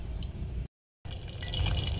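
Store-bought chicken nuggets fry in oil in a pot, giving a soft, continuous crackling sizzle that drops out briefly and then returns slightly louder.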